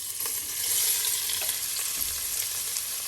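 Carrot and garlic sizzle steadily in a hot pan for stir-fried cabbage, a close, even hiss of frying with faint stirring clicks and no talk.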